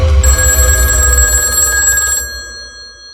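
A telephone rings loudly with a bright, sustained electronic bell tone over a low hum, the ring cutting off after about two seconds and fading into a brief tail.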